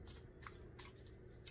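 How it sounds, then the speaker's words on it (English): Tarot cards being shuffled close by and quietly, with a few quick riffling bursts spaced through a short stretch, no talking over them. "Shuffle, shuffle, shuffle."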